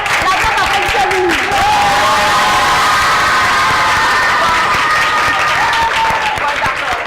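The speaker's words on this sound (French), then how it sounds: "La gauche, applaudissez-vous. La droite, applaudissez-vous." A loud audience of children claps and cheers continuously, with high shouts and whoops rising over dense, steady applause.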